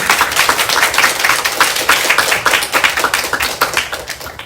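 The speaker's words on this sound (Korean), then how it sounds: "박수 한번 주세요" Audience applause closing the first Earth Environment Forum lecture, a steady dense patter of many hands clapping, loud and close, with no talking over it.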